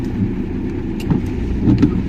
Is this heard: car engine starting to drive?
yes